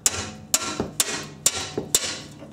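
A heavy 3-pound sledge hammer strikes metal during rear strut replacement on a Nissan Maxima, landing five loud, sharp, evenly spaced blows about half a second apart, with no talking.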